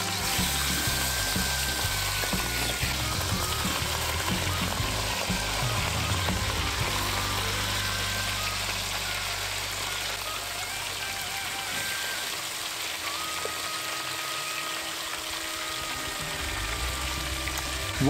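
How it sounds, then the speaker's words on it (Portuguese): A loud, steady sizzle of beef searing in a hot pan, continuous hissing and crackling close by, with low clattering underneath. "Com a sua panela bem quente, você começa a adicionar a carne"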